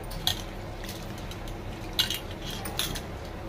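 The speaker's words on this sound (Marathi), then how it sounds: "सगळ्यात पहिली ही डाळ आपण स्वच्छ धुवून घ्यायची आहे।" Soft clinks and faint sloshing of moong dal lentils being washed in water in a metal pot, with a few sharper taps spread over a few seconds.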